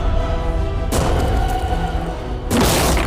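Tank cannon shells fired in rapid succession: two heavy, booming blasts ring out loud and close, each followed by a rumbling, sustained decay over a constant background roar.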